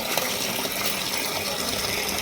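Water gushes steadily from a household tap that is stiff to turn, a dense, continuous broadband rush at close range with no pauses and no voices.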